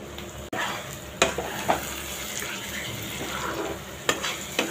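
Tomatoes frying in oil with ginger and garlic paste, a steady broadband sizzle with a few sharp spoon-against-pan clicks as the mixture is stirred, close and continuous with no talking.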